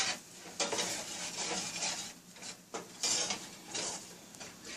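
Flour browns in a pan while a utensil stirs it, giving soft scraping swishes that rise and fall in uneven strokes over a low sizzle, close and quiet with no talk.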